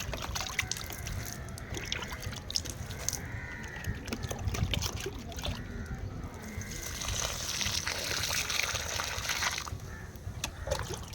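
Water trickles and splashes steadily into the soil of a freshly repotted rose in a pot, a soft, close pouring sound that runs continuously with slight surges.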